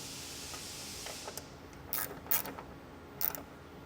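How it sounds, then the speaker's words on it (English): A hand ratchet tightens bolts on the upper air compressor bracket behind the grille of a 5th-generation Toyota 4Runner, giving a few quiet, close clicking bursts over a faint hiss. "Now we can fully fasten the 2 bolts on the upper compressor bracket as well."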